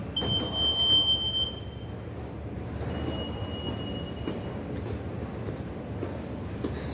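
A light rail train rolls past at close range, a steady rumble of wheels on track with high, thin squeals from the wheels in the first half and again midway, with no talk over it.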